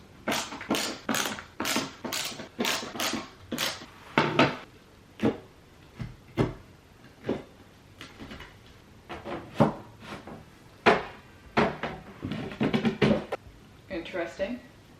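Furniture drawers are assembled with a string of wooden knocks, taps and clatters, some fast and clustered and others spaced out, close by while a person talks at times.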